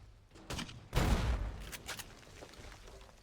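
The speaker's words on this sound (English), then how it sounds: "Why does it keep feeling like the explosions are going off in front of me?" Explosions in the video game Fallout: New Vegas go off as a cluster of sharp booms, one louder blast near the one-second mark followed by fainter bursts trailing off.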